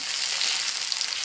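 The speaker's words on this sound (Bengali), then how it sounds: "পেঁয়াজটা দেখো বন্ধুরা লাল লাল করে একটু ভেজে নেব" Onions sizzling and frying steadily in a pan for a Bengali rui fish kalia, a continuous close hiss with no voices.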